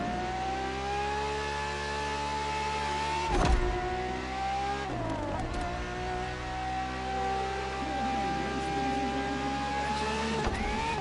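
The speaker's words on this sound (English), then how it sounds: "for this second lap, you'll be driving the FXXK" Ferrari FXXK supercar, a lab-enhanced LaFerrari, in the video game The Crew Motorfest, a high-pitched engine wail holding steady then dipping and rising again through shifts, loud and continuous, no talking.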